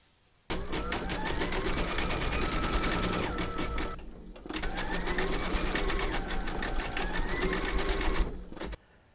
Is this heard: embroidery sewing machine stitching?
yes